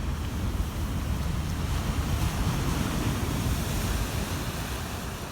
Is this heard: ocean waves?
yes